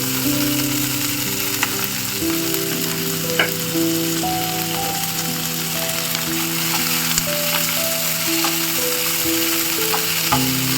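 Onion and masala frying in oil give a dense, even sizzle, with occasional soft clicks of stirring and steady tonal notes playing underneath throughout.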